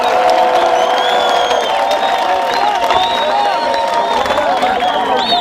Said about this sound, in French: applaudissez pour le chef de l'État, Félix-Antoine Tshisekedi Tshilombo